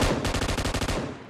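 Fast automatic gunfire in PUBG Mobile, a loud burst of about a dozen rapid, evenly spaced shots that trails off.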